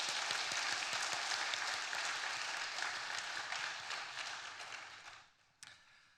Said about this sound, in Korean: 다시 한번 박수 주시죠.